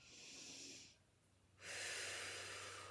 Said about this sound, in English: We're going to breathe 3 times.